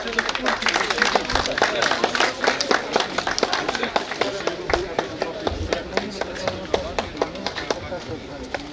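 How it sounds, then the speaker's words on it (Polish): Applause from the audience at a road cycling race awards ceremony in Łańcut, with a dense run of claps spread across the whole stretch and a voice talking over it. "Gorące brawa."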